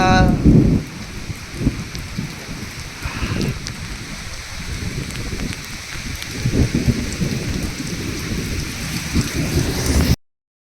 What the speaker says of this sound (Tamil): உங்களுக்கு சரியாக உள்ள மழையை நான் உங்களுக்கு காமிக்கிறேன் எவ்வளோ தூரம் பெய்யுது